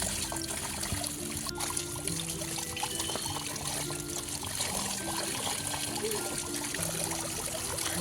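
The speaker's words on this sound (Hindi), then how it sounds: "अब हम इनको अच्छे से धो लेंगे ताकि ये अच्छे से साफ़ हो जाए।" Garlic scapes, cloves and chillies being washed in water, with a steady trickle and splash of running water and faint handling noises, close and continuous without talk.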